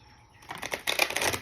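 A deck of oracle cards is shuffled close by, a quick burst of papery riffling flutters that starts after a quiet moment and grows louder toward the end.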